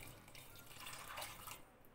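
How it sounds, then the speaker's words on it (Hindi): Water poured into a pressure cooker holding soaked chana dal for a dhaba-style dal tadka, a steady splashing stream at close range for about two seconds, with no talking. "साथ ही साथ हम इसमें पानी ऐड कर देंगे।"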